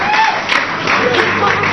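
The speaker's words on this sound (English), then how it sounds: "Another round of applause for the General Secretary" Audience at a press conference following a speech clapping steadily throughout, a dense wash of applause from a crowd, with a voice speaking over it.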